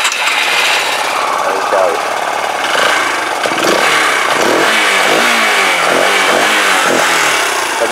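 A Yamaha YBR 125 motorcycle engine runs at a loud, close, steady chug with slight revving fluctuations, and someone speaks briefly over it.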